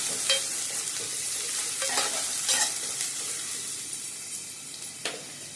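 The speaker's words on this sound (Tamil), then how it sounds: "வெங்காயம் நல்லா பொரிஞ்சு வரும்." Onions frying in sesame oil for a Tamil fish curry made without coconut, giving a continuous bright sizzle with a few soft stirring scrapes, close up, no speech.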